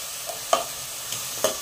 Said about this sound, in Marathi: आता हे छान परतून घ्यायचं वाटाणा